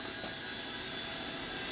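A C119 single-rotor, four-channel RC helicopter lifts off and flies, its steady, even whine and rotor hum holding constant and fairly loud throughout, with no talk.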